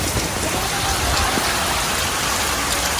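Heavy typhoon rain pouring down with strong wind, a dense, steady hiss of downpour close by with no letup across the whole stretch and no voices.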